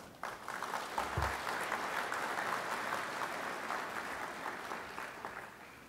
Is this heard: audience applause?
yes